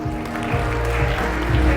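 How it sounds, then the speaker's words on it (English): An audience at a Philippine Start Up Week keynote claps in a steady, moderately loud round of applause, with low thumps and room rumble underneath, sustained without a break. "let's give a big round of applause for Mr. or Dr. Erwin Benedict Valencia"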